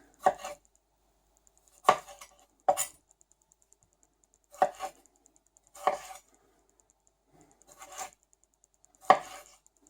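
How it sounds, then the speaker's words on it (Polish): A knife chopping half an onion and tomatoes into quarters on a cutting board; seven crisp, close knocks with uneven pauses between them, over a quiet background with no talking. "pokroimy pół cebuli. Pomidorki pokroimy na ćwiartki."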